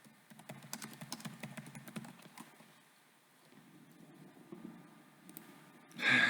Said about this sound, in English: Let me type this in.